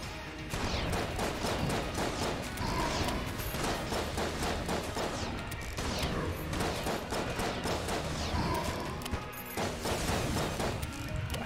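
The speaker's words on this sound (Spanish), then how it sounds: "Lo peor es que esos disparos rebotan." Repeated gunfire and crashing impacts from the bullet-hell video game Enter the Gungeon, shots ricocheting in dense bursts that continue steadily, loud and busy throughout, with no talking.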